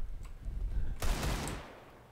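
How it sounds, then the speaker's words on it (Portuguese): Loud bursts of gunfire in Counter-Strike: Global Offensive break out midway, a dense volley of shots that rings on and slowly fades. "o idiota dando tiro pra todo quanto é lado lá"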